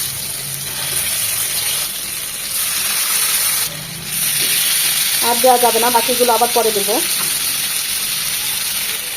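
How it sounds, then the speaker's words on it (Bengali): Beef shik kebabs on sticks frying in soybean oil, a constant hiss of sizzling oil close by, briefly dipping once, while someone talks over it partway through. "আমি তো শিকগুলো সয়াবিন তেলে ভাজছি"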